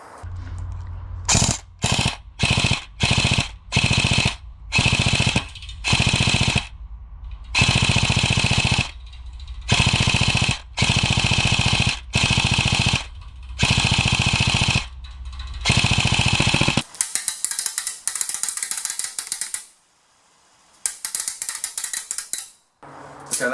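A Bolt MP5 blaster, repaired after misfeeding and inconsistent firing, shoots its ammo in loud, close rapid bursts of mechanical rattling. Several bursts of varying length are split by short pauses, followed by a softer stretch of clicking and handling noise.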